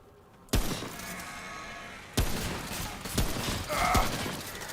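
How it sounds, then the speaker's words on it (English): Gunfire in the video game Remnant: four sharp, separate shots spaced about a second apart over a low background of game ambience. "Or just shoot 4 times, hit once."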